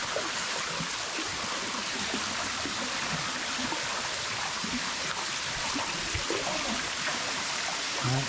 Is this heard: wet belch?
no